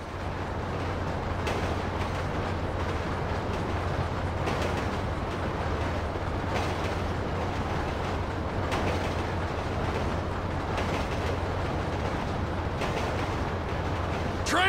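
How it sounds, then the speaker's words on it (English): A train rumbles past in the video game Grand Theft Auto V, a steady, dense roar with low droning hum and rattling clatter throughout, loud and sustained without any talk. "train ain't stopping here, boys!"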